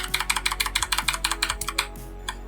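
A Razer mechanical keyboard typed on fast and loud, a close rapid run of crisp clacking keystrokes that slows and stops, with no talking.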